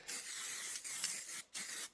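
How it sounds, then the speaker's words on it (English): Aerosol spray can of adhesive sprayed liberally onto quilt fabric, a steady close hiss in long bursts broken by two short pauses as the nozzle is released. "I do spray liberally for this because I want it to stick down"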